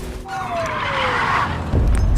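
A car skids with a rising tire squeal in a film scene, then crashes with a heavy low impact at the end, loud and close.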